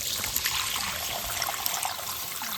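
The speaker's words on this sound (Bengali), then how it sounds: "এখন এর ভেতর জল দিয়ে দিচ্ছি।" Water is poured steadily into a pan of cooking masala for a corn curry, giving a continuous close trickling, splashing stream with no pauses.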